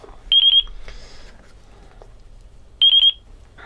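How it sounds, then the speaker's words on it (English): Two short bursts of rapid, high-pitched electronic beeping from a quadcopter radio transmitter entering bind mode during a Nanobot brushed 110mm quadcopter build, spaced a few seconds apart over a quiet background. "select bind, hit enter to put it into bind mode, and you hear the bind beep."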